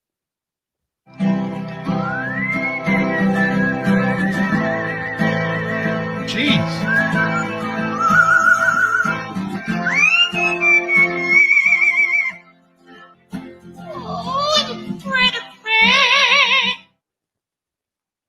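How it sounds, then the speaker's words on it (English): Singing bird whistling long, wavering and sliding tonal phrases over a strummed guitar, loud and close, ending in quicker chirpy trills after a short break. "this is a dude strumming his guitar while being completely upstaged by his singing bird"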